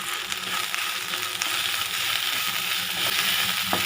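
Okra frying in a pan with chilli powder and coriander powder over a low flame, a close, continuous oily sizzle with light crackles and faint stirring scrapes.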